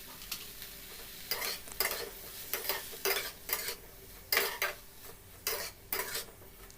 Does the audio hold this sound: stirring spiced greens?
yes